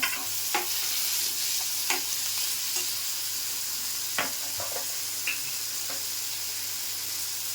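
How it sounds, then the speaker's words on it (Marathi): Tomatoes go into onions frying in a pan for a sprouted moth bean dish: a continuous close sizzle with several sharp spoon scrapes and taps scattered through, no voices. "आता मी टोमॅटो टाकून घेते फक्त कांदा मऊ करून घ्यायचा"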